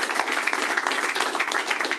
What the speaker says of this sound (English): I want to give a huge round of applause to the Crimson Courage organizers here